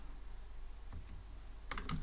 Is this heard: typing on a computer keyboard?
yes